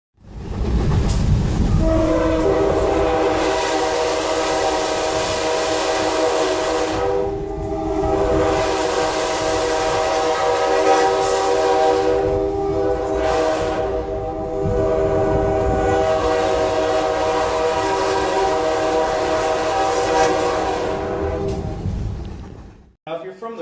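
A locomotive rolls through a town at night, its horn sounding in long, loud, sustained blasts over the steady rumble of the train, with a short gap midway.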